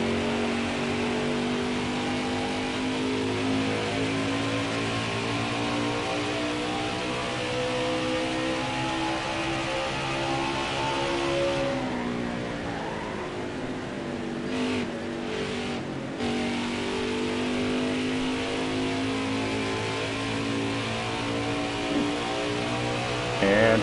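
Race truck engine accelerating around the Gateway track: a sustained, loud, droning roar whose pitch climbs steadily, dips briefly near the middle as the truck exits a turn, then pulls on strongly, with no voices.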